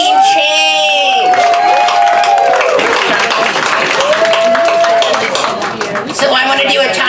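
Crowd at a Sacramento legislative lobby-day rally applauds and cheers loudly and continuously, with whoops and shouts over the clapping and a voice heard through the noise.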